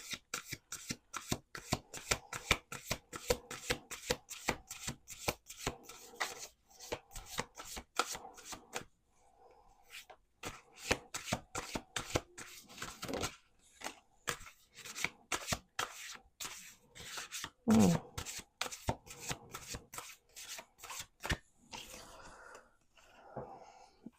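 Rapid, rhythmic riffling of oracle cards, shuffled repeatedly up close in bursts, with short pauses between rounds.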